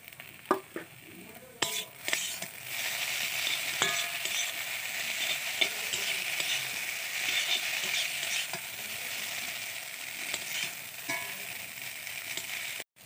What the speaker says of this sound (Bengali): এরপর এই ম্যাগিটা ভালোভাবে মিশিয়ে নিব, সুন্দর করে একটু ভাজা ভাজা করে নিব।